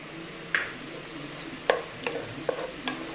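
Onion and tomato for chicken mappas are stirred in a pan: four or five distinct spoon scrapes and knocks ring out over a soft, steady sizzle, close by.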